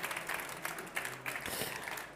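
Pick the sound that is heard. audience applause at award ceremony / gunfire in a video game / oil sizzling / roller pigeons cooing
audience applause at award ceremony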